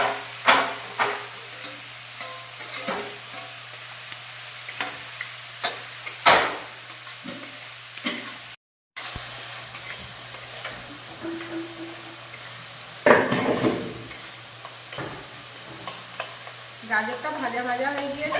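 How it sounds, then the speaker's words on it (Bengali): Grated carrot frying in a pan with cardamom, cloves and cinnamon, a continuous light sizzle broken by repeated scraping stirs and clinks of a spatula, close and fairly quiet. "গাজরটা ভাজা ভাজা হয়ে গিয়েছে"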